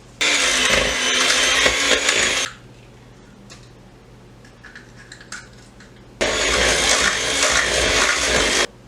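Electric hand mixer beating two large eggs into cinnamon roll cheesecake batter, loud steady whirring in two bursts separated by a few seconds of quiet kitchen clatter.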